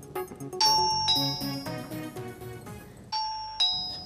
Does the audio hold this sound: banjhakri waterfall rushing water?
no